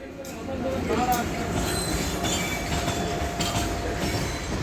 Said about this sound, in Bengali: শুরু শিলিগুড়ি দার্জিলিং টয় ট্রেন পরিষেবা।